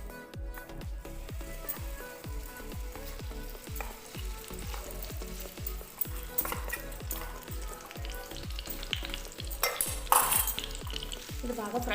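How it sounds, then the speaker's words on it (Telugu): Semolina and milk mixture being fried and stirred in a pan for ravva laddu: a steady, busy sizzle with a quick, regular rhythm of spoon strokes scraping the pan throughout, close up, with no talk. "ఇది బాగా ఫ్రై అయ్యేంత వరకు కూడా కలుపుకోవాలి"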